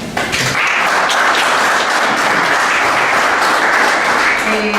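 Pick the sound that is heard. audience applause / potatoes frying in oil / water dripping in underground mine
audience applause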